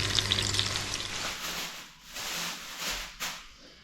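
Chicken cutlets fry in a pan, a steady close sizzle and hiss with some stirring or scraping, easing briefly before resuming, no voices.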